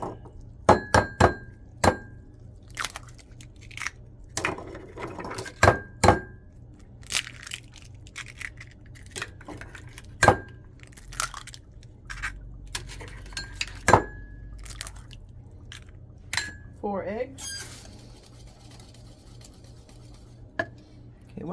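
Biscuit mix, milk and eggs are stirred into a batter in a bowl: quiet, irregular clinks and sharp taps of a utensil against the bowl, with soft scraping between them and no talking.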